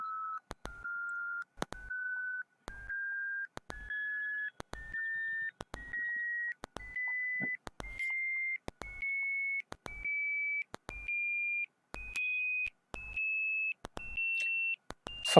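A computer generates evenly spaced beep tones with Python's winsound module, each beep a pure tone slightly higher than the last, starting at 600 hertz. About a dozen short beeps rise in pitch, separated by brief clicks and silences, with no voices.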